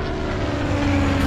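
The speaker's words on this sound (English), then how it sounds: "I'm in a cargo plane headed directly for the reservoir." A cargo plane in flight, heard as a loud, continuous engine drone with a steady low hum and broad rushing noise, no voices over it.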